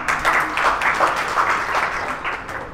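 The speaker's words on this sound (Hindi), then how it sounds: "देखो जोरदार ताली।" A crowd claps loudly and continuously at a talk, the dense applause holding steady for a few seconds before easing slightly.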